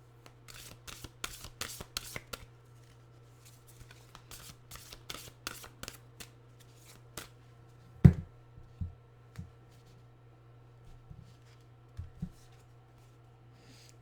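Nature's Whispers oracle cards shuffled by hand, with quick, crisp riffling bursts followed by sparser taps and card slaps, close and quiet over a low steady hum.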